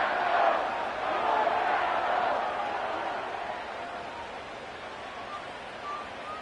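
Stadium crowd at an NFL football game late in the fourth quarter, Eagles in a close finish, a broad roar of many voices that swells early and then eases into a lower, steady hum.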